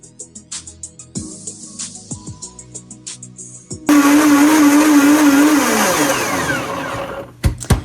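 Clattering and tapping, then a loud Blendtec blender blending vinaigrette roars to life, whirring at high speed with a pitch that shifts as it runs, before stopping abruptly.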